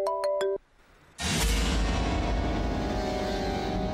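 A mobile phone rings for an incoming call: a short repeating electronic ringtone, then a brief pause before a loud, sustained dense sound takes over.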